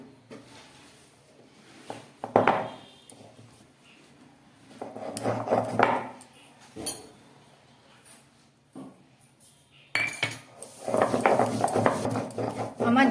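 Cumin being ground into paste by hand on a grinding stone, irregular bursts of scraping and rubbing strokes separated by quiet pauses, close and unaccompanied by speech.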